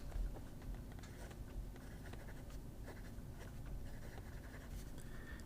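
A Conklin-nib fountain pen scratches across paper in quick, faint strokes with small pauses, a close, quiet dry-ink scribbling texture over a soft background.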